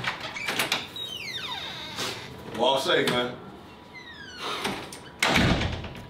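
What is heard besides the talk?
door being opened and shut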